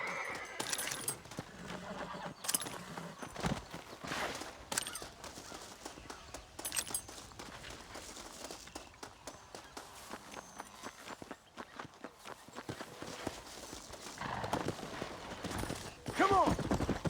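Horse hooves clatter in the Red Dead Redemption video game, an uneven run of close footfalls beneath shouting voices and background game sounds throughout.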